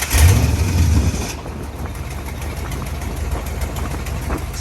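Custom V8 5.0 in a Ford Ranger idling with an exhaust leak, a loud low throb at first that drops to a muffled steady rumble once the hood closes.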